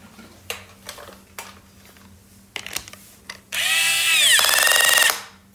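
An impact wrench runs a car wheel's lug nut on after hand-threading, a loud sustained buzz ending in rapid ratcheting clicks once tight, preceded by a few clanks and knocks of tools.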